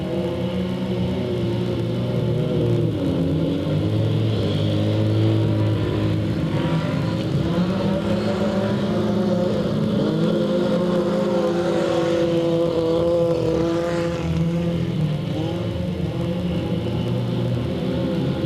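Race cars roar bumper to bumper down the back straightaway at Delta Speedway, a loud, continuous layered engine drone with shifting pitches as the pack holds close together.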